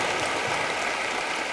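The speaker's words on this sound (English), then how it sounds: "I think it's worth a round of applause." Studio audience applause on a television arts and chat show, a steady dense clatter of clapping filling the whole moment without a break or any voices.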